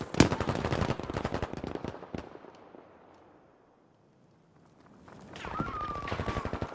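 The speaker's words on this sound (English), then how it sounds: "Full squad shooting the tank." Video game gunfire as a full squad shoots at a tank: rapid overlapping bursts of rifle and machine-gun fire rattle loudly, fade to near silence, then a fresh volley starts up.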